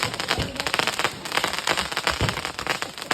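Firecrackers bursting during Diwali celebrations, a dense run of sharp crackling pops and snaps, loud and close, with no talk.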